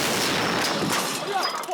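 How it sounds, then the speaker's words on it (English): Artillery gunners in Helmand, Afghanistan, fire on an enemy position about 12 miles away, a dense, rumbling barrage of loud blasts and echoing booms that fills the whole stretch without pause. "These gunners are firing on an enemy position some 12 miles away."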